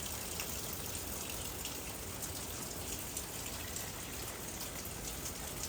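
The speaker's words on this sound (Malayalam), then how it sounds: "മഴ ഒന്ന് ഇച്ചിരി കുറഞ്ഞിട്ടുണ്ട് കേട്ടോ ശക്തി" Rain falls steadily after easing from a downpour, making a faint, even hiss of drops with no speech.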